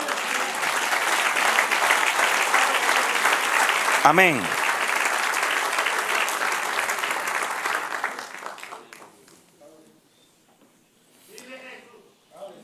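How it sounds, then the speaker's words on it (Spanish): A church congregation applauds in sustained, dense clapping for about eight seconds before it fades away, with a voice saying a word near the end and then speaking briefly afterward. "Era un aplauso"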